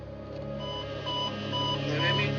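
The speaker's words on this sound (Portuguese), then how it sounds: "cada amedrontador alarme é gravado" Cockpit alarm captured on an airliner's cockpit voice recorder, a steady repeating electronic tone with pulsing beeps sounding continuously over a low cabin hum.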